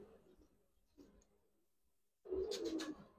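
Giribaz and coloured pigeons coo softly in a quiet space, with a few faint low coos followed by a louder, closer burst of cooing and light clicks near the end.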